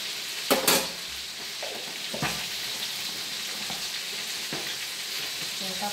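Cabbage dish simmering in a covered pot, a steady soft bubbling and sizzling hiss throughout, with a couple of brief clinks of a lid or utensil early on.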